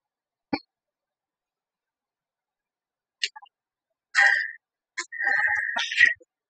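A phone rings inside a house in the Friday the 13th video game: short electronic trilling bursts separated by silence, growing longer and denser toward the end, with no talk over them.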